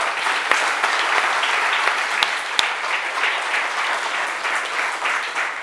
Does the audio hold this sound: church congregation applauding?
yes